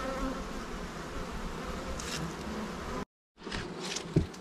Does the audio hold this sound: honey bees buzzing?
yes